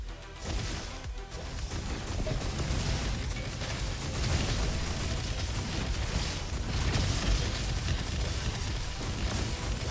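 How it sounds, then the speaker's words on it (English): Dense, continuous bursts of small explosions crash and boom in a video game against enemy bots, a loud unbroken barrage lasting throughout. "The amount of mini explosions knocking about is still hilarious"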